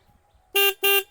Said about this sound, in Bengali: এখানে হচ্ছে আপনার হর্নটা আমি আপনাদেরকে দেখিয়ে দিচ্ছি